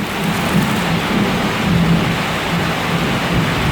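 Heavy rain pours steadily with a dense, even hiss and a low roar that holds at the same loudness throughout, with no voices.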